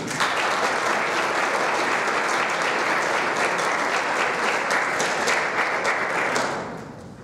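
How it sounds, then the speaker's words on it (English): An audience at a social sciences conference applauds the faculty staff and organizers with dense, sustained clapping that stays loud and even for several seconds before fading out at the end. "I would ask for a special extra applause for them"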